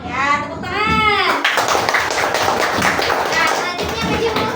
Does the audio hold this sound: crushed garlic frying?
no